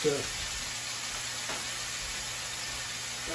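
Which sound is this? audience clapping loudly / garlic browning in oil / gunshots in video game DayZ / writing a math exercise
garlic browning in oil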